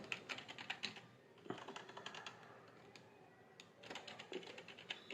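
Rapid clattering keystrokes on a computer keyboard as a topic is typed into an AI presentation generator, bursts of quick clicks separated by short pauses, close and fairly quiet.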